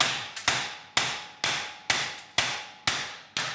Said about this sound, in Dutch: Dan heb je hier een hamer.